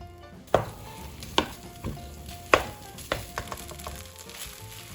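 Boudin frying over medium heat in a thin coat of bacon grease in a pan: a steady low sizzle broken by several sharp clicks and pops spaced a second or so apart, with no voices.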